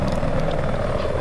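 A helicopter in a video game whirs steadily with a droning rotor hum, loud and continuous for a brief moment with no break.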